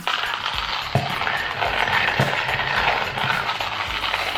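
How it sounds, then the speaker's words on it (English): Coffee beans, about 12 grams, ground in a coffee grinder for a French press mocha, giving a steady close mechanical rattling and crunching with gritty texture and a few sharper clicks throughout. "And now we just need to grind it after put the coffee bean here."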